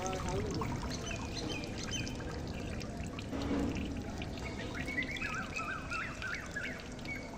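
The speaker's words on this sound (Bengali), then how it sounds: "এই যে মাথায় পানি দিতেছি" Water poured over the head of a heat-stricken myna bird, a soft, steady trickle and splash close by with faint bird chirps and low outdoor background.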